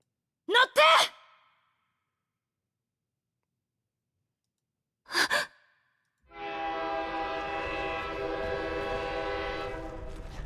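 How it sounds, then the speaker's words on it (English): A train horn blares long and loud as a train thunders into a station, a sustained harmonic tone after two brief vocal bursts and a gap of silence. "the urgent blare of a train horn as it thunders into the station"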